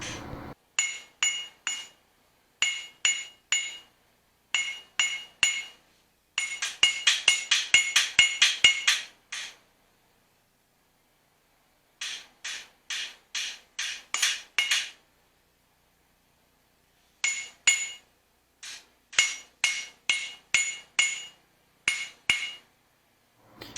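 A blacksmith hammers out a custom touch mark, sharp ringing strikes falling in quick bursts of rapid blows separated by short pauses, close and loud with no talking.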